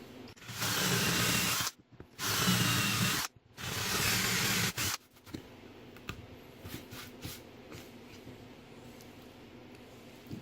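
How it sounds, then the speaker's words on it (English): Three loud bursts of a whirring power drill boring holes in a resin stool, separated by brief pauses, followed by quieter scraping and handling noises. "Drill these holes as well."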